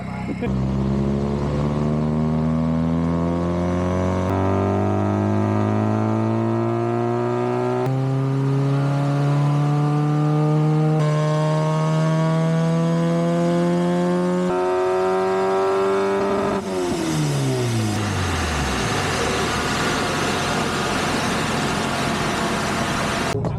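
A Nissan Micra K11 engine revs up through the gears on a rolling road dyno, pitch rising steadily in repeated climbs before dropping away, loud and close, with voices talking over it.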